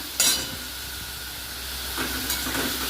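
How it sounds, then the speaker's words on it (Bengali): Prawns frying in hot oil in a pan, a steady low sizzle with a sharper hiss as they go in near the start and again toward the end, close and fairly quiet, no talking. "এবার আমি মাছগুলোকে ভেজে নেব"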